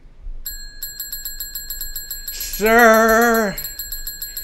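Service bell rung once in the video game Bloodwash, giving a bright sustained metallic ring, followed by a voice speaking briefly over it.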